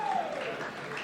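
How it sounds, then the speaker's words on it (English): Audience clapping briefly at an awards banquet, a steady wash of applause filling the room for about a second. "can I get 2 claps to Nerd?"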